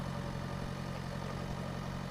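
A tractor engine idles steadily in a farming video game, a continuous low mechanical hum with a faint rumble, holding an even level throughout with no revving.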